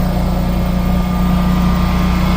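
A Generac 24kw standby generator runs outdoors in snow, giving off a loud, steady, droning engine hum with a low tonal buzz that holds constant throughout.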